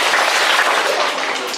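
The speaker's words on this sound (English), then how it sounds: "give me 2 claps up there." A school audience claps during an all-school meeting, a dense burst of many hands lasting the whole moment, steady and close with no clear break between two rounds.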